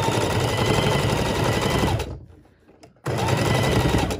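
A sewing machine stitches a neck bone pillow in a steady, loud run of close stitching, stops for about a second of near silence, then starts again just as loudly.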